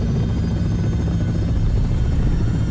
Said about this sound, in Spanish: Digo el helicóptero.